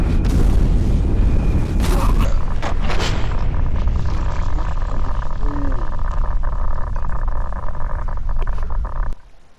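Mini nuke explosions in the video game Fallout 4 make loud, booming blasts that roll into a sustained heavy roar and rumble, with a person talking over the din before it cuts off.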